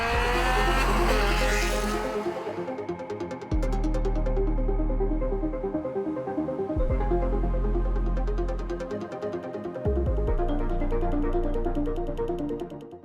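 A Ferrari 360 Challenge Stradale's engine wails loudly while driving, climbing through revs and dropping back at each gear change several times, with a sharp rasping exhaust note and no talking.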